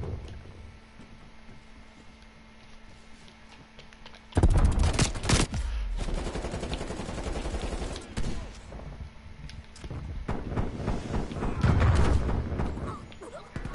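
Gunfire in Cold War Zombies, including shotgun blasts: after a quieter opening, loud rapid volleys of shots burst in and continue in clustered bursts with booming hits, and voices talk over parts of the action.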